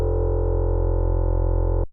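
A plain, dry sine wave synth tone from Ableton Live with all effects switched off, holding one steady, loud pitch with no modulation for about two seconds before cutting off abruptly.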